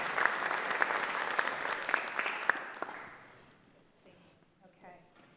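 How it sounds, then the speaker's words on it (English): A crowd applauds steadily for a few seconds, then the clapping fades out into quiet room noise. "Can we have a round of applause for them?"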